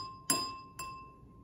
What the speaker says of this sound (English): The one with the least amount of water makes the highest note when you hit it.